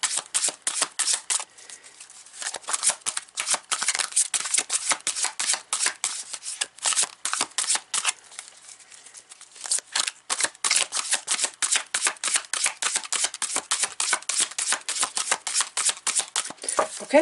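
Tarot cards being shuffled by hand in rapid, crisp riffling bursts that run almost continuously, close and fairly loud, with a brief lull midway and no talking.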